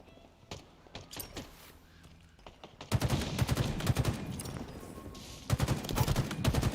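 Automatic shotgun in Halo Infinite firing in quick repeated blasts that grow louder and denser midway, with a brief lull before another rapid volley, over faint background game noise.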